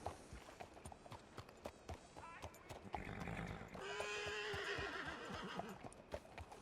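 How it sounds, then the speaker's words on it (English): Horses in the WildRP video game setting: whinnying calls and scattered hoof clip-clops over several seconds, with a busier stretch of game sound in the latter half and brief voice bits mixed in. "There's horses here."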